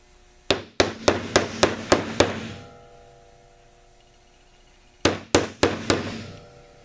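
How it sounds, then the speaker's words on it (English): Pressed powder pieces for carts are broken up with a run of six sharp, ringing hammer-like blows in quick succession, then a pause, then four more strikes, loud and close with nothing else audible. "I'm going to break them up a little bit, and they don't have to be tiny"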